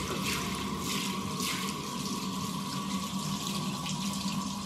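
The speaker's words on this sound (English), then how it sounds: "Okay, I'm gonna rinse it." Running water rinsing shaving powder off a leg, a steady close hiss of flowing and splashing water from a tap, continuous for several seconds with no talking.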